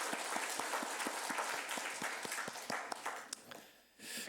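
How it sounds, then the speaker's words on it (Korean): A congregation applauds during a Sunday worship service, a faint, dense patter of clapping with a few sharper claps standing out, then fading near the end. "하나님께 영광의 박수를 합니다"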